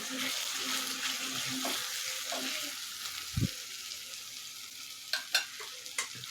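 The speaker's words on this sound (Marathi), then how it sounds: "मसाल्याने छान इथं तेल सोडलेलं आहे आता आपल्याला हे हलवून घ्यायचे आहेत" Misal masala fries in oil while a spatula stirs it, producing a constant sizzle, an occasional low thump, and a few crisp scraping clinks against the pan near the end.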